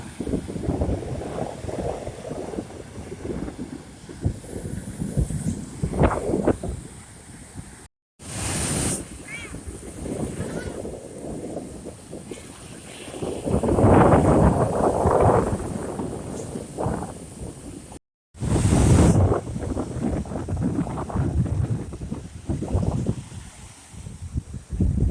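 Wind and surf at a beach in Port Maria, St Mary, a steady rushing wash with gusty swells, interrupted by two brief dropouts, with voices and activity mixed in.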